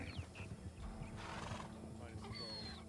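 A race horse in the RedM Western game runs under a steady hoof rhythm, with a couple of whinnies and snorts rising above it and a faint voice in the background.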